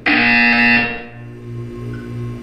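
A loud electronic buzzer blares in Portal 2, a harsh sustained tone lasting under a second before fading into a lower pulsing hum, with no voices.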